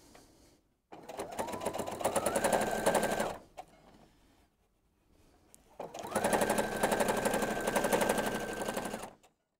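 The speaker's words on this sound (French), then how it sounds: "Et là, je vais le coudre jusqu'au coin en bas." Sewing machine stitching a jelly roll quilt rug in two loud, close runs of rapid needle clatter, each a few seconds long, separated by a quiet pause.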